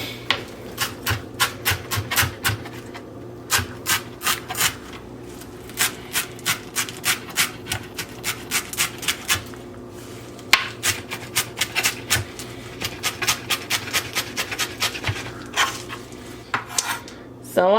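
Cilantro being chopped on a board for guacamole gives rapid bursts of sharp knife taps in irregular runs, loud and close, with short pauses between flurries.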